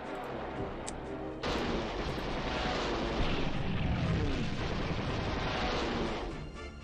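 Continuous booming rumble of artillery fire in the World War II strategy game Panzer General II, a dense roar that swells abruptly and then fades toward the end.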